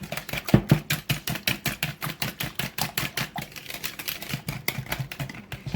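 Buttermilk being mixed into a mixture in a bowl, heard as a brisk, even rhythm of whisking taps and scrapes against the bowl, repeating quickly and steadily throughout.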